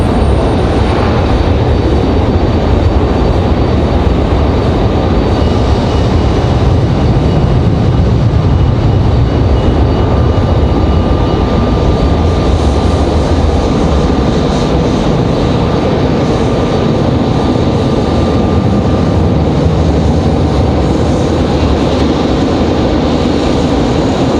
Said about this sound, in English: Our JetBlue A220 pushing back over there on the other side of Terminal 2.